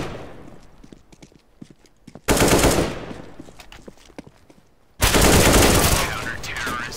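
Bursts of loud, close gunfire from the video game CS:GO, two heavy volleys separated by quieter stretches of scattered shots and game noise.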